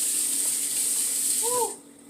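Steady hiss of hot tap water running into a sink while ham is rinsed, continuing for most of the clip before cutting off abruptly near the end.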